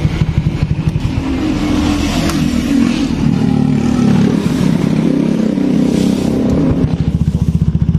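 Honda Beat 2019 scooter with a loud aftermarket exhaust idling and revving, a continuous throbbing engine drone with rattling pulses, close and loud throughout.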